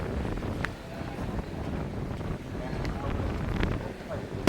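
Strong wind gusts buffet the microphone in rain at the Golden Bridge, Ba Na Hills, Da Nang, Vietnam, a rough continuous rumbling whoosh rising and falling, with a person speaking over it.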